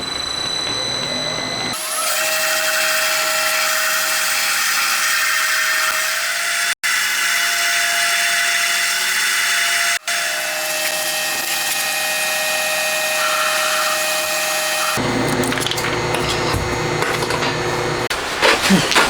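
A lathe parting off a workpiece while making a crankshaft for a 125cc four-cylinder 16-valve engine, a loud continuous machining whine and hum that runs steadily for most of the stretch, broken by two brief dropouts, then changes character near the end.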